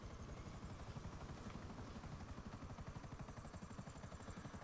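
A helicopter in the video game GTA V flies with a fast, steady rotor chop, its rhythmic thumping blades beating evenly and continuously at a moderate distance with no one talking.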